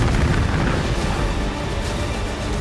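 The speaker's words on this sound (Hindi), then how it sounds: "यूक्रेन का दावा है कि उसने कीव के आसमान में कुछ इस तरह से किंजल मिसाइलों को ध्वस्त कर दिया" Kinzhal missiles are shot down over Kyiv, producing a continuous broad roar of explosion noise that stays loud and steady throughout, with no voices.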